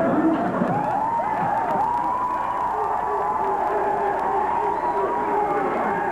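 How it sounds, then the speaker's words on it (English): A 1990 Arsenio Hall Show studio audience cheers and applauds a spoon trick in a steady, loud wash of crowd noise that holds throughout. "And you can applaud if I get it up."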